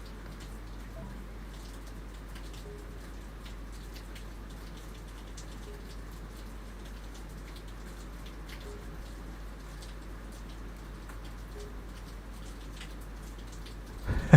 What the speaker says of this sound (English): You can hear the rain on the veranda.